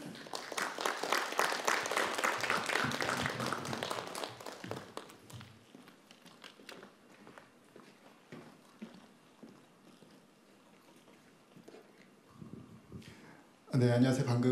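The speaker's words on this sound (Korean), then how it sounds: "발제를 큰 박수로 청해 듣겠습니다." An audience at a cultural forum applauds to welcome a speaker, loud crowd clapping that fades into sparse claps, followed by a voice starting to talk.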